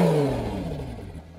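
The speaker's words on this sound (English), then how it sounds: "I hope this microphone picks up just how loud this car is." A DMC Lamborghini Gallardo with its exhaust valves open revs loudly up close, a deep engine roar whose pitch slides downward as the revs fall away over a second and a half.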